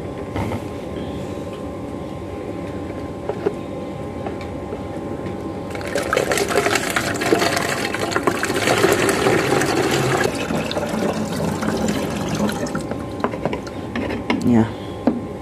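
Water pours into a container in a loud, rushing splash lasting several seconds, rising abruptly over a background of mechanical clatter and then cutting off.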